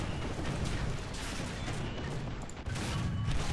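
Tank cannon fire in a War Thunder battle involving a Jagdpanther tank destroyer, heard as dense, continuous booming gunfire with heavy low rumble throughout, a brief dip midway, then renewed loud blasts.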